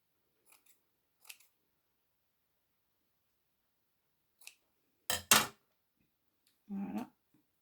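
Scissors snip a small piece of ordinary gauze while a Valentine's card is being made: a few faint isolated clicks, then two louder close snips, and a soft rustle of material afterward.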